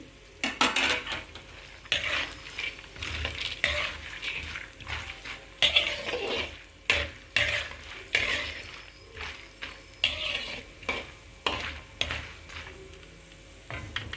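Roasted gram dal frying in a hot tempering for a poha and puffed rice snack, with repeated scraping stirs of a spoon against the pan over a soft, steady sizzle.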